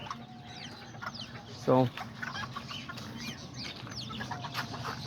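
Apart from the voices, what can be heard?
Kikiriki and serama chickens clucking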